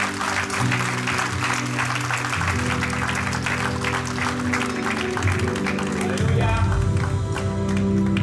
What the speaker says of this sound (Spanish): Un fuerte aplauso, gracias Señor